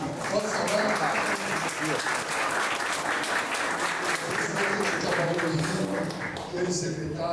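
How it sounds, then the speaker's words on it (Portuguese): Audience applause in a São Paulo city council setting honoring the council president, sustained dense clapping throughout with voices mixed in underneath. "por favor, salvas de palmas"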